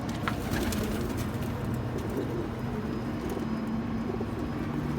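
Pigeons cooing in a loft, soft repeated low coos from several birds close by, over a steady outdoor background with a faint car passing.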